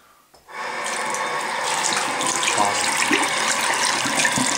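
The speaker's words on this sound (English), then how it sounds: "We're gonna have to wash it because all the flavors from the usual tobacco are still in here." A kitchen tap switches on after a brief pause and runs steadily, splashing over tobacco being rinsed for homemade shisha, a close, constant hissing stream with no voices.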